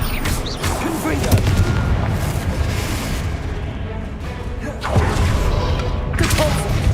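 The Confringo fire spell exploding in the Hogwarts Legacy video game, dense booming blasts and rumbling impacts in a loud continuous battle mix, with a fresh burst near the end.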